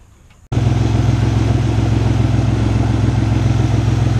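A car engine starts abruptly and settles into a loud, steady idle with the O2 sensor removed from the exhaust, giving a harsh, open, pulsing rumble close to the microphone.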